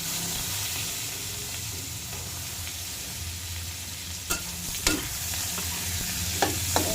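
Garlic, onion and ginger sauté in a pan for escabeche, giving a steady close sizzle and frying hiss throughout, with a few sharp clinks of a utensil against the pan near the end.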